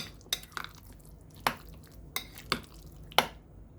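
Guacamole being mixed in a bowl with salt and squeezed lemon juice, a quiet series of wet squishing and tapping strokes, about six distinct soft hits spaced irregularly.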